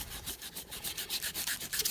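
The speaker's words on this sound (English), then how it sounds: "I'm going to take some 600 grit sandpaper and I'm going to sand the bone" 600 grit sandpaper rubs back and forth over elephant toenail bone in a fast, even rhythm of raspy strokes, close and fairly loud with nothing else heard.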